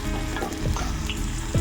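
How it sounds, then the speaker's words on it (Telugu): Curry leaves, shahjeera, cloves and cinnamon fry in hot oil in a pan, a close, dense crackling sizzle that carries on without a break. "ఇందులో ఇలా వీటన్నిటిని మనం ఒక 2 to 3 మినిట్స్ వరకు ఫ్రై చేసుకోవాలి."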